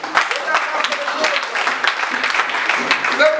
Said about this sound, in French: Applaudissons très fort pour la paix.